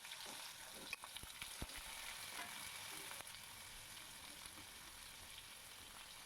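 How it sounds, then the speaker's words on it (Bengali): Diced potatoes frying in mustard oil with cumin and bay leaf make a continuous soft sizzle with a few brief clicks and taps early on, faint and steady, with no voices. "জিরে আর তেজপাতা ফোড়ন দিয়ে এবারে ডুমো ডুমো করে কেটে রাখা আলুগুলোকে ছেড়ে দিলাম"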